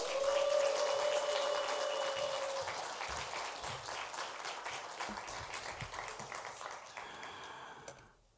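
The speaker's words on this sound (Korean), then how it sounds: "박수로 환영합니다." Congregation at a Sunday church service applauding in welcome of a visiting pastor, a steady dense wash of many hands that gradually fades, with a sustained tone near the start and faint sounds as it dies away.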